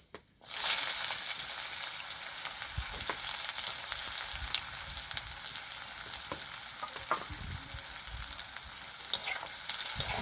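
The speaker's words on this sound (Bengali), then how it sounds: "ভালো করে নাড়াচাড়া করে ভেজে নেবো পেঁয়াজটাকে" Sliced onion fries with panch phoron in a pan, a steady loud sizzle that starts suddenly after a brief clatter and carries on throughout, with faint stirring scrapes underneath and no voices.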